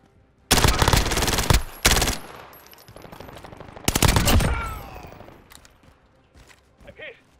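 Two loud, close bursts of automatic gunfire rip through a Call of Duty Warzone match, each about a second or more long, separated by a short lull and trailing into quieter game ambience.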